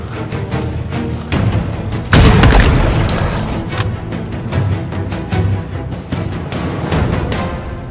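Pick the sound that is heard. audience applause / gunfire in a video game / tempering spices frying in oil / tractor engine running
gunfire in a video game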